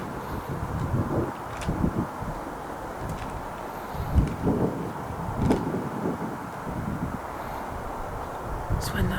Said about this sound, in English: It's when that wind picks up.